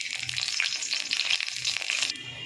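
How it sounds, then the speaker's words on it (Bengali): Black cumin seeds dropped into hot oil crackle and sizzle loudly and continuously at close range, a bright, busy frying hiss with no speech. "আমি এবার তেলের মধ্যে কালো জিরেটা দিয়ে দেবো।"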